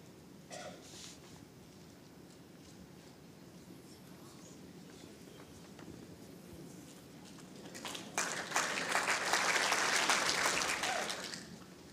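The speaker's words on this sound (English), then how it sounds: "Well, it's an encouraging clap, I think." A crowd claps politely at the 2018 World Indoor Bowls Championships ladies singles final, the applause swelling into a broad, steady patter in an indoor arena after quiet murmuring.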